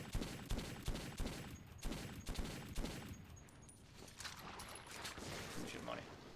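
Rapid bursts of gunfire from the Metro 2033 video game, rhythmic shots with a faint game backdrop, quiet and fairly close.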